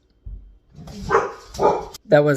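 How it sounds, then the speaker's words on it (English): Several dogs bark at people approaching nearby houses, giving a few loud separate bursts over roughly two seconds, with a voice talking in between and over them. "my dogs are barking"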